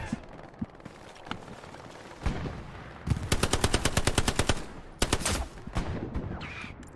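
Machine gun fire in the World War II shooter Hell Let Loose, heard during a competitive esports match: a rapid, even burst of loud shots with a couple of separate shots before it and another short burst after it.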